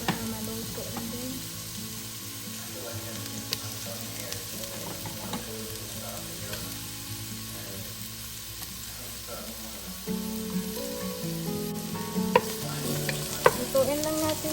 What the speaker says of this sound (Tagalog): ilagay na lang din natin ang onion and garlic para maluto na din.